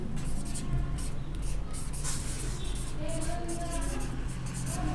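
Marker or chalk scratches and scrapes across a board in quick strokes while a teacher speaks over the writing throughout.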